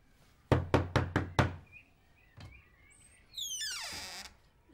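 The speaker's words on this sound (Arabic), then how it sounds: "ليش عم تدقوا علي بابي؟" Five firm knocks on a door in a quick, even burst, followed by a fainter single tap and then a rising, warbling tone, heard in a quiet room.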